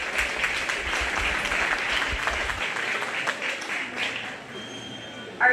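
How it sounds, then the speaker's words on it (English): Crowd at a 4-H/FFA cattle show applauding young market heifer exhibitors; a moderate spread of clapping from the arena audience, fading toward the end, with a low hum beneath it and a brief bump at the close. "Let's go ahead and give all three of those young people a nice round of applause."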